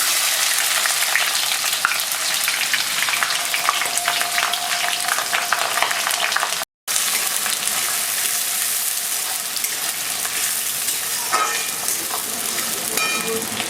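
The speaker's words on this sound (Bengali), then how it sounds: "তেল ভালোই গরম হয়ে গেছে এবার দিয়ে দিচ্ছি কুচনো পেঁয়াজ" Chopped onions hitting hot oil for a mushroom curry, after cloves, cinnamon and cardamom, with a loud, continuous sizzle that holds steady throughout, broken only by a brief cut.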